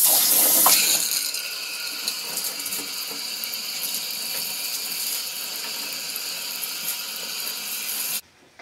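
Water runs steadily as cleaning product is rinsed off bathroom tiles, a continuous hissing spray that starts with a brief louder burst, holds at an even level for about eight seconds and then cuts off abruptly.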